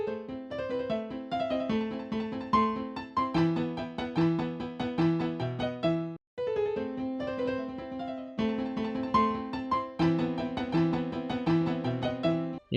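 A Mozart piano piece reworked into 6/7 time plays steadily, dense bright keyboard notes in a running rhythm with a brief break midway, moderately loud and clear, no voices.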